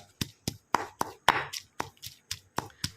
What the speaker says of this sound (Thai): ก็โขลกกระเทียมไว้นะครับ สำหรับทำกระเทียมเจียวนะครับ